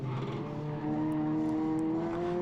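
Renault Clio RS 200 on the Three Sisters circuit during a track day, engine droning steadily with a rising tone as it brakes lightly and turns in, captured close from the car.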